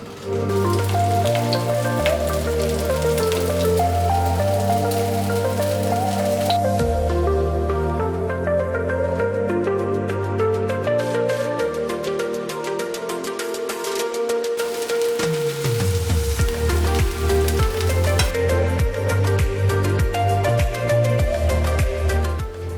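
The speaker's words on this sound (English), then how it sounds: "I have a non-stick frying pan behind me on medium-high heat with a little bit of canola oil, and we're gonna cook these guys" Aloo tikki patties sizzle in canola oil in a non-stick frying pan over medium-high heat, a steady hiss of frying running the whole time beneath louder background music.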